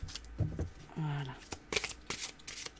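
Tarot cards shuffled close by in quick rustling riffles, with a brief spoken voice and hum breaking in partway through the handling.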